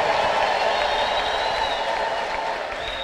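Church congregation applauding during a service, a steady wash of clapping from a crowd at moderate level, joined by scattered voices throughout.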